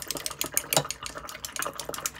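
Watercolor brushes are dipped and swished in water, giving quick, close splashy taps and trickling sounds in an irregular rhythm, heard alone without talk.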